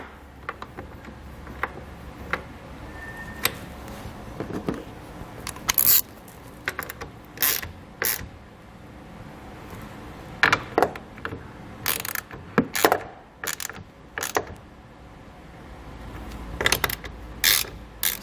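A hand ratchet clicks in short, irregular bursts while fasteners are turned a few turns at a time on K-Source custom flip-out towing mirror mounts, with sharp metallic ticks and pauses between them.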